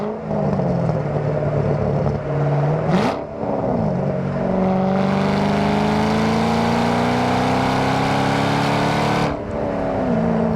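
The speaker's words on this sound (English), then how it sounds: "Love that supercharger whine." A 2007 Ford Mustang Shelby GT500 with an aftermarket Shelby-style supercharger drives along a road, its engine droning loudly while a high supercharger whine climbs steadily in pitch as it accelerates, with a brief dip in the middle.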